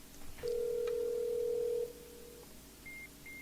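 A single steady telephone ringback tone sounds on an outgoing call, one long ring lasting about a second and a half, fairly loud over a quiet background. A few faint short beeps follow afterward.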